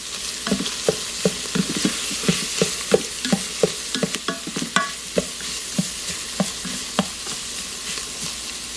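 Onions frying in a pan while being stirred, a constant bright sizzle punctuated by regular, evenly spaced scrapes of the utensil against the pan, close and clear with no talking.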